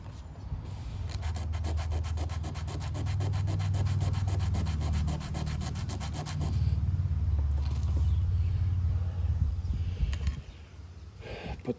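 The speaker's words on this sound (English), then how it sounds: "sand that washer" A washer for a Caterpillar Cat 60 tractor magneto is sanded by hand, close and steady, with rapid back-and-forth rasping strokes that run for several seconds, pause briefly, then continue before stopping.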